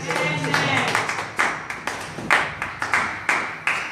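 Audience at a French-language evangelical worship service clapping in a steady rhythm of sharp, fairly loud claps, with voices and cheering mixed underneath.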